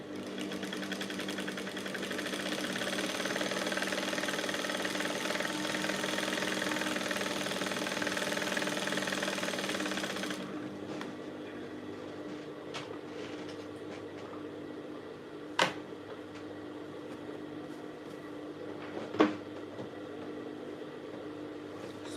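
A sewing machine stitches lining to blouse fabric in a steady, continuous mechanical whir for about ten seconds, then stops, leaving quiet room tone broken by two brief clicks.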